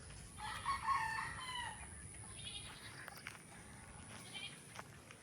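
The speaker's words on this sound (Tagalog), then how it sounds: "May manok." A native chicken crows on a farm where goats are feeding, a faint rising call heard over outdoor ambience, followed by softer animal and background sounds.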